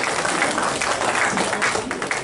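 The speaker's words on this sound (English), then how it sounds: "Let's give Ken a round of applause for his trouble." An audience at a live game-show style event gives a short burst of applause, a dense, steady patter of clapping lasting a couple of seconds with no talk over it.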